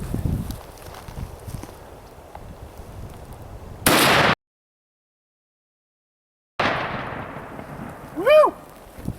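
A Winchester Model 70 rifle fires a single .30-06 black tip armor-piercing round at a ceramic armor plate outdoors: one sharp, loud blast that cuts off abruptly, then quiet ambience, with a short high whistle-like tone afterward.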